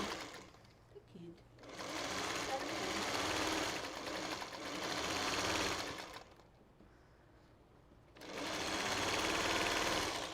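A sewing machine stitches two quilt columns together in three long, steady running bursts separated by short pauses, close and fairly loud, with faint voices in the gaps.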